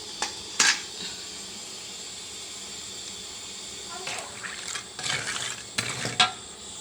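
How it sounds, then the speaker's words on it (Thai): Pork rinds getting their second deep-fry in hot oil over high heat: a low steady hiss broken by close bursts of bubbling sizzle and stirring. "แบ่งครึ่งแล้วก็เอาไปเจียวครั้งที่สองค่ะ"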